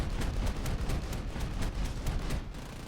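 Aircraft cannon fire in War Thunder, a rapid, steady stream of loud punchy shots hammering continuously for a few seconds and then cutting off, with no talking.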